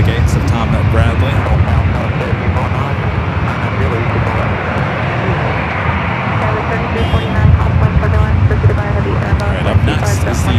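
An Emirates jet taxiing at LAX, its steady engine roar loud and continuous with a broad rushing hum, while someone talks over it throughout.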